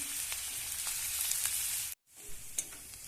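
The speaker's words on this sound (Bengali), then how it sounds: "এবার দিয়ে দিচ্ছি একটু আলুগুলো লাল লাল করে ভেজে নেব।" Potatoes fry in oil in a pan, a bright, steady sizzle with light crackles. The sizzle cuts out abruptly for a moment, then returns a touch quieter. No one speaks.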